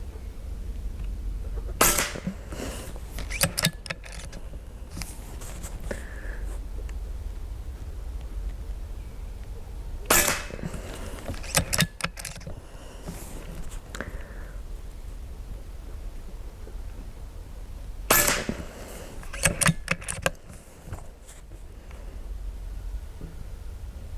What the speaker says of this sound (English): That was 5 shots.